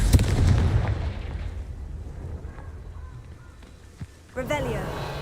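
A Confringo fire-blast spell explodes in the Hogwarts Legacy video game with a loud opening boom whose rumble fades over several seconds. A sharp pop follows, and a voice comes in near the end.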